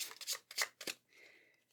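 A deck of cards shuffled for a card reading, three quick riffling bursts close up followed by a softer brushing settle, quiet and without talk.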